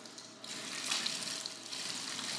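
Tap water runs steadily from a faucet at a salon wash basin while rinsing a man's hair after beard and hair colouring, a soft continuous hiss and splash, fairly quiet with no talking.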